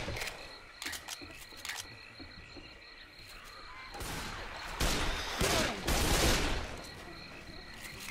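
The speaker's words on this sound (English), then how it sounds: "I love my frickin' dual pistols." Dual pistols fire in Left 4 Dead 2 during a swamp level, sounding as scattered sharp shots followed by a louder cluster of rapid gunfire with game noise underneath.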